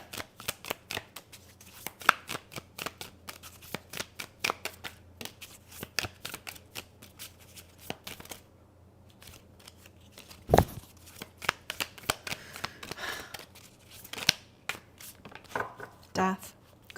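Tarot cards shuffled and flipped from a deck during a live card reading, a steady run of crisp paper flicks and riffles with a sharper slap near the middle, close and fairly quiet, with a voice talking in places.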